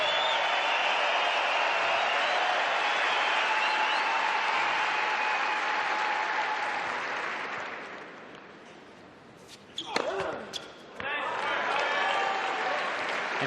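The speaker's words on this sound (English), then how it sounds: "And applause in the stadium for the legend." Sustained stadium applause at a Laver Cup tennis match for Rod Laver, a dense roar of clapping that fades away before a few sharp knocks and the crowd noise returning.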